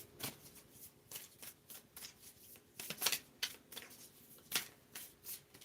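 Repeated riffling bursts of a deck of affirmation cards being shuffled, close and crisp, coming in quick uneven rounds.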